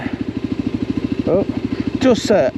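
A motorcycle engine idles with a steady, close pulsing chug as the rider sets off, with brief bursts of talk over it.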